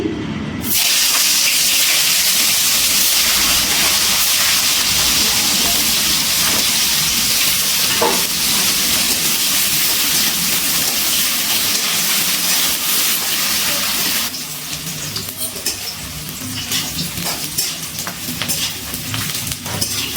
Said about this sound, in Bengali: এই তেলের মধ্যে ফুলকপিগুলো ভেজে নিচ্ছি।